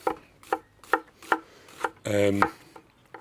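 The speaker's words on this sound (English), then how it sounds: "So I'm just going to coarsely chop this" A knife chops rhythmically on a board, about seven firm, evenly spaced thuds with a brief scraping rattle in the middle.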